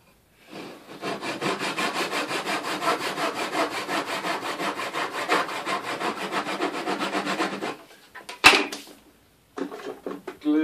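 A hand saw cuts a piece in half for a cheap phone camera holder. It makes steady, rapid rasping strokes for about seven seconds, close and loud, then a few knocks and handling sounds follow.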